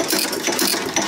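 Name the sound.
old engine running, hitting and firing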